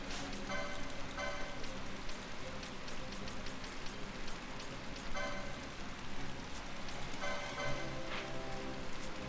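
Steady rain falls in the video game Final Fantasy XII Zodiac Age, a constant dense hiss of drops at even loudness with faint game tones layered over it, no voices.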